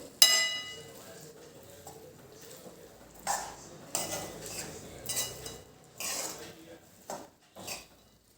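A spoon scrapes and clinks in a pan as green onions are stirred into half-cooked mung dal, with several separate bursts of clatter over a quiet background.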